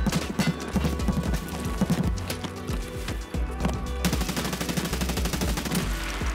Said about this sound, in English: Oh, I'm being shot at.